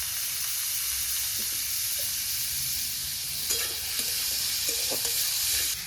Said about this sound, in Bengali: এখন আগে সাদা তেলে এটা ভাজা ভাজা করবো